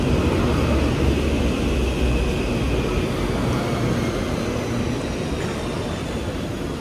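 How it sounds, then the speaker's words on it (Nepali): A Helsinki metro train runs along the track, heard from inside as a loud, continuous low rumble and roar that holds steady throughout with no talking. "घर जानलाई मेट्रो कुदिरहेको"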